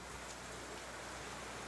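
Steady heavy rain pours down in a Costa Rican rainforest in a dense, even hiss, with no pauses, quiet and continuous.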